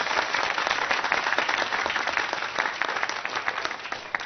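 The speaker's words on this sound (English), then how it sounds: "Bravo. Applause to them." An audience gives a sustained round of applause, a dense, even patter of many hands clapping that holds steady at moderate loudness throughout.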